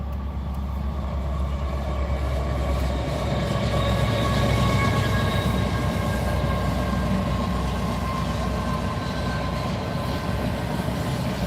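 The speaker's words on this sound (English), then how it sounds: "Hold on, that's a train." A train passes nearby with a loud, continuous rumble and rattle of rolling wagons that holds steady for about eleven seconds, with no voices.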